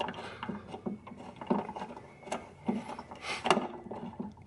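Threaded part being backed out of a rivet nut tool on a Corvette brake duct install, a series of light metallic ratcheting clicks and turns with short pauses between.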